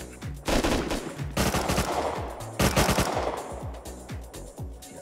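Automatic gunfire from the video game Rust at a small oil rig, with rapid, loud bursts of shots that come in several close-spaced volleys and continue steadily throughout.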